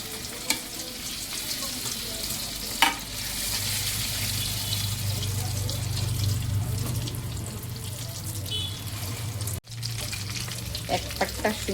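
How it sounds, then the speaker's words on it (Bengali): Chicken pieces dropped into hot white oil in a large wok for chili chicken, a loud continuous sizzle and bubbling with occasional clanks and stirring scrapes, cutting out briefly before resuming. "চিকেনগুলো ভেজে নেব।"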